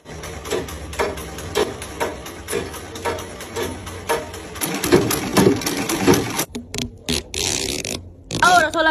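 A sewing machine stitches a pillow cover with a zipper, giving rapid rattling runs with short stops and some rustling and handling noise of the fabric, while a voice talks over it at times.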